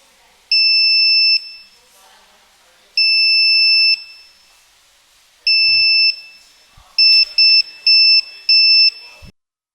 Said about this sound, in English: the reed switch detects the magnet and the buzzer starts beeping